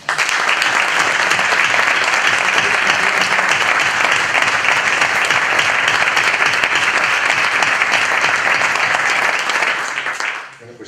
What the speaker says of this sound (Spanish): También un aplauso para ellos.